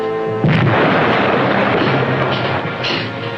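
Torpedo hits on an enemy aircraft carrier, heard as a sudden loud explosive boom that swells into a sustained, rumbling roar of blast and debris, with a second surge near the end.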